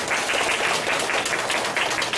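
A lecture audience in a classroom career talk gives a short burst of dense, continuous applause, many hands clapping together in an even wash with no voices over it.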